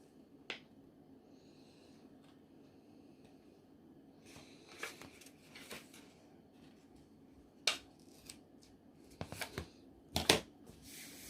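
Scissors cutting paper and foam for a handmade craft tag, a few sparse, crisp snips close by in a quiet room, with small handling sounds between them.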